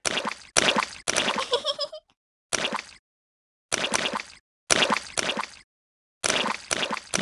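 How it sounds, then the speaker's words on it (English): Loud, wet squelching splashes from muddy puddles in a Peppa Pig video game come in short repeated bursts separated by silent gaps, with a bouncy, springy effect in one burst. "Look at all that splashing."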